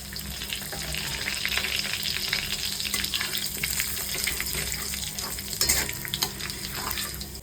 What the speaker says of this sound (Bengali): এবার সাদা জিরে, তেজপাতা আর গরম মশলাটা দিয়ে দেব।